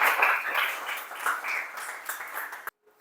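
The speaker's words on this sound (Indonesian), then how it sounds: "Kita kasih tepuk tangan dulu" A small group of students in a classroom claps in an uneven, modest patter that fades and then cuts off abruptly near the end.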